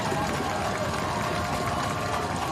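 A crowd roars at a Conway high school football game, a 7A quarterfinal against Bentonville West. The noise is a steady, loud, even wash of cheering with no breaks, and a commentator's voice may sit underneath.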